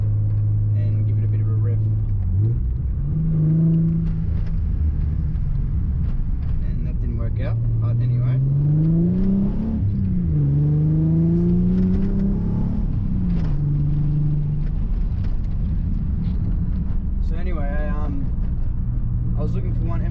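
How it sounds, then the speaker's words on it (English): A Nissan 300ZX engine revs inside a tunnel, its note swelling up and down in several loud rising and falling sweeps over a steady rumble, with the enclosed space booming around it and voices talking throughout. "We can't not go past the tunnel"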